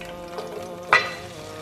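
Onions and whole spices frying in ghee in a pot, a steady close sizzle with a brief louder burst of crackle as something is stirred or added midway.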